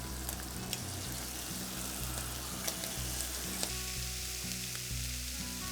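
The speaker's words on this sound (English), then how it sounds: "we're just going to colour the scallops till it's nice and golden brown on each side" Seasoned scallops sear in a hot frying pan, giving a steady close sizzle and crackle throughout, with soft music playing underneath and no talking.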